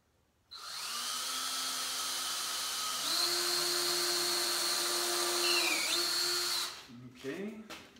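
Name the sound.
drilling with a small drill bit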